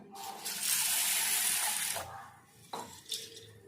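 Water pours steadily onto sago in a bowl for soaking, about two seconds of bright splashing rush, then stops and a few clinks of a utensil follow.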